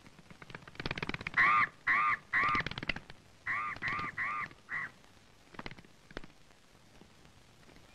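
A crow caws in a film scene, seven harsh calls in two loud groups of three and four, close and clear, followed by quieter background rustle.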